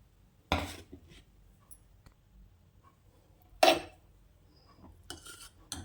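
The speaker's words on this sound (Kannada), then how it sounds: "ಈಗ ಇದನ್ನು ನಾನು ಸಕ್ಕರೆ ಪಾಕಕ್ಕೆ ಹಾಕ್ತೀನಿ." Gulab jamun being added to sugar syrup in a pan, heard as three sharp metallic clinks of a spoon against the pan, spaced apart with quiet handling between them and no talking.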